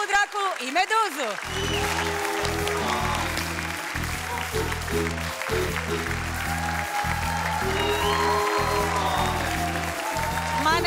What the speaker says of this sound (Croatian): Pozdravite velikim pljeskom još jednom Ajkulu